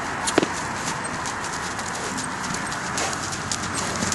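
Rescue draft horse Guinness walking, hooves clip-clopping in a steady stream of close, crisp strikes with a few sharper knocks, no voices over them.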